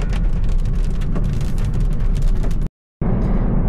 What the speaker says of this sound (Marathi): हे बघा थेंब किती जोरात आहेत. आवाज येत असेल तुम्हाला.